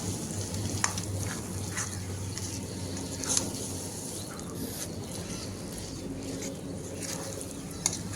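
Vegetarian cabbage ghonto with chopped coriander being stirred in a pan: a soft, constant sizzle broken by light scrapes and a few faint clicks, at a fairly low level.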